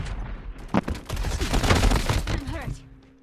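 Gunfire crackles in a Call of Duty Mobile battle royale match, with a dense burst of overlapping shots and thuds mixed with a player's voice talking over the game.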